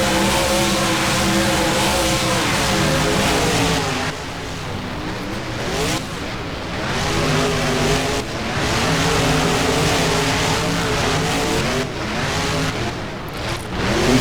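Monster trucks Enforcer and El Toro Loco race side by side in BeamNG, their engines blaring loud and unbroken, pitch climbing and dipping through repeated gear changes and throttle lifts.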